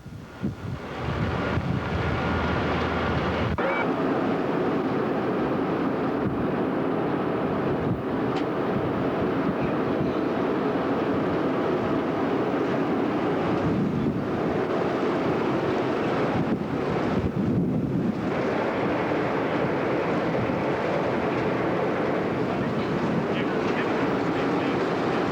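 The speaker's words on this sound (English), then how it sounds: "Hope this wind and engine isn't drowning everything out" Steady roar of wind and the engine aboard the Lincolnville to Islesboro ferry, loud and continuous for the whole stretch, with gusts that swell and ease and a low mechanical rumble beneath, no voices.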